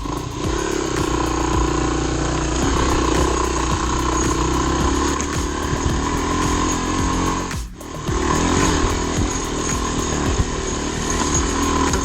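A Kawasaki KLR 250 dual sport motorcycle with a liquid-cooled four-valve twin-cam engine drones steadily on a rough trail, loud and close, with a brief dip mid-ride and no talking.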